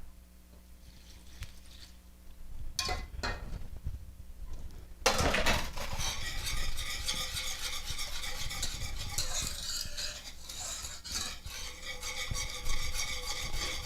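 Milk is whisked into a sugar and cocoa mixture in a pot: a few scattered taps and clinks give way to continuous rapid whisking and sloshing, close and steady to the end.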